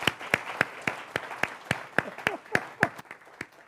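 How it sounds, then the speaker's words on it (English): Audience applauding after a song at a tribute program for Dr. Freeman Hrabowski, with sharp, rhythmic, evenly spaced claps standing out over softer background clapping. "applause for that song"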